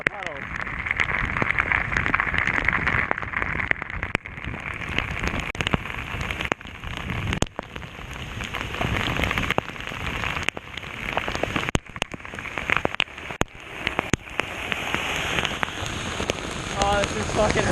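Heavy rain pours down steadily during a thunderstorm, pattering close on surfaces and puddles while someone walks through it, with occasional voices and bumps under the constant hiss.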